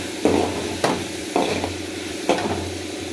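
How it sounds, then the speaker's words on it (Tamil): Sliced onions with turmeric fry in an oiled pan for a paneer gravy, a steady sizzle broken by four scraping stirs of a spoon, close and alone with no talk. "இந்த வெங்காயத்தை சேர்த்து நல்லா பொன்னிறமாக வதங்கணும்"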